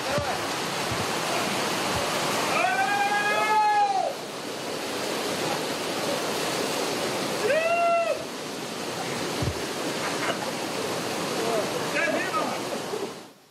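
A mountain river and the Benoy waterfall in a gorge in Chechnya make a steady, loud rush of falling water. Bird-like whistles break in briefly a few times.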